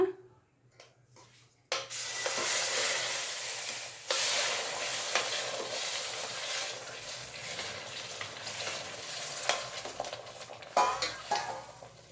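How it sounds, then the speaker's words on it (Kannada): Boiling water sloshes into a hot pan of kesari bath with a brief sizzle, followed by steady stirring and scraping against the pan, close and continuous. "ಈಗ ಚೆನ್ನಾಗಿ ಕುದ್ದಿರುವಂಥ ನೀರನ್ನ ಹಾಕೊಂಬಿಡೋಣ."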